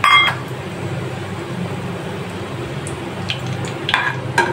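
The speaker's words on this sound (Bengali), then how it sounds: "এবারে রান্না ফোড়ন, শুকনা মরিচ ফোড়ন।" Dried red chillies temper in hot oil for red amaranth greens, giving a soft, continuous sizzle with a few light clinks of a utensil against the pan near the start and end.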